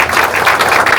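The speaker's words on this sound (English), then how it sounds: "That would be a round of applause." A brief, loud burst of audience clapping at a workplace-safety anniversary event, dense and even, lasting about a second.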